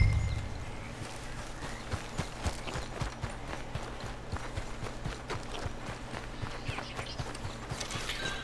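Horse hooves clip-clop in a steady walking rhythm in the Red Dead Redemption 2 video game, close and regular, with no one talking.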